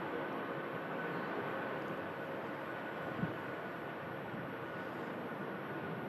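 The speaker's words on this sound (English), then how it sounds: "Jet 2757 departing out to Crete in Greece" A Jet2 Boeing 757 departs Manchester Airport bound for Crete, its engines a faint, distant broadband roar that stays steady and even throughout, with no voices.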